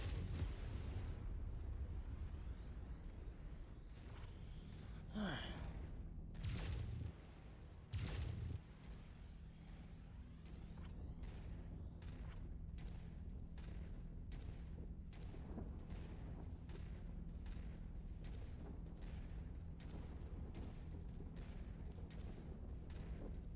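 MechWarrior 5 artillery fire in battle, a run of loud booming blasts with heavy explosions early on, then a long rapid series of sharp repeated impacts over a constant low mechanical rumble.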